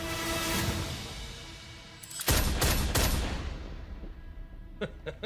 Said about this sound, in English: He shot the gun.